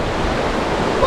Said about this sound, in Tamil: வர வழியில் தண்ணி சும்மா அவ்வளோ சூப்பராக போகுது பாருங்கள்.